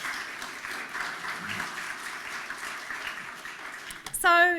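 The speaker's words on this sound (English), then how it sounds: "Let's give a round of applause for Tricia Alach." Audience applause for a speaker at a talk, a steady, moderately distant patter of clapping that runs to near the end, where a louder sound cuts in briefly.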